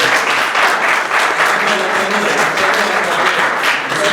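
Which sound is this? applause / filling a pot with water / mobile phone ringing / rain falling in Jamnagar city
applause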